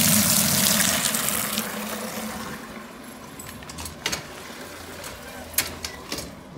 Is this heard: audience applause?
no